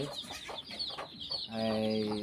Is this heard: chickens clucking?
yes